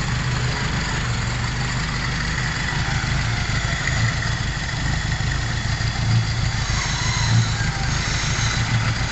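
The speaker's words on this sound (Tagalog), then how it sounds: "So ayan na po mga kalbularyo, umaandar na ang makina." A 1997 Mitsubishi Lancer engine, converted from fuel injection to a carburetor, idles steadily with a low, even rumble that holds close and constant throughout.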